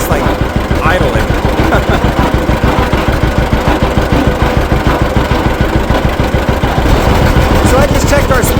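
A loud, chugging antique tractor engine idles while rolling downhill, with a rapid, even thumping rhythm throughout, close by and continuous.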